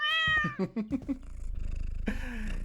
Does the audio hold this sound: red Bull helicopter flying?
no